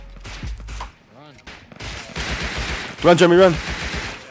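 Gunfire from several players in the survival game Rust, with loud bursts and rapid shots that swell toward the end, under frantic shouting from a player.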